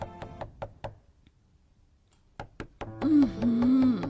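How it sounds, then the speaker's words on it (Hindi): Knocking at a door early in the morning in a cartoon: a quick run of five sharp raps, a pause, then two more knocks before a voice begins calling out. "अगली सुबह 5 बजते ही खटखट होता है।"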